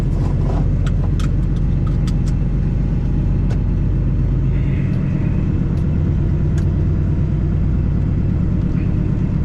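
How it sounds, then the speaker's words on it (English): A semi truck rolls down the highway, a loud continuous engine and road rumble from inside the cab, with a few faint clicks and knocks scattered over the drone. "Find out how this truck's gonna act"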